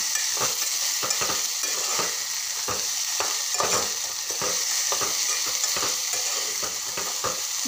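Okra for a simple bhendi bhaji fries in a pan while being stirred, a constant bright sizzle under regular scraping strokes of a spatula, close up with no speech.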